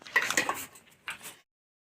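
Dishes and cutlery clink close by as rice and meat curry are served at a home meal, in two short clattering bursts with a pause between them and no talking.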